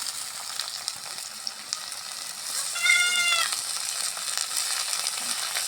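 Cumin seeds, whole garlic cloves and onion frying in a pan, a steady close sizzle and crackle, with a short cat meow cutting in partway through.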